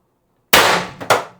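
An IntruBuster Gen 2 CO2 air gun, fed by 8-gram cartridges, fires a single sharp, loud, close shot that cracks out of silence, with a brief second impact snapping right after.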